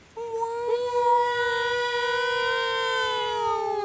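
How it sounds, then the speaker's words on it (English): A wailing tornado warning siren starts abruptly and holds a long steady tone, slowly sliding lower, loud and continuous with no talking. "I hear sirens go off for the tornado warning."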